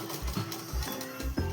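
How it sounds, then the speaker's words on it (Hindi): Sewing machine stitching a dress sleeve, a quick run of rhythmic mechanical thumps and whirs, about four pulses in a second and a half, close and clear with no talk. "इसको बिल्कुल इसी तरह से रखकर इस तरह से हम सिलाई लगाएंगे, और अभी हम इसकी डबल सिलाई करेंगे"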